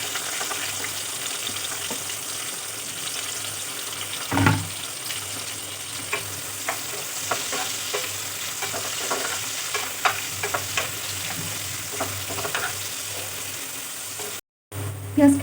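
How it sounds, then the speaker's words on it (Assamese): Chopped onions hit hot oil with bay leaf and green chillies for a mutton potato curry, giving a steady close sizzle and frying hiss, broken by a few stirring scrapes and knocks of a utensil. "আৰু কাটি ৰখা পিঁয়াজখিনি দিছোঁ।"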